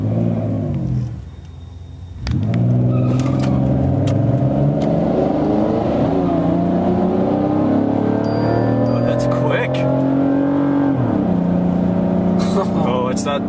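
Chevy and Honda cars race side by side, their engines revving hard through the gears with a loud, steady roar that drops briefly and then climbs again, close to the listener.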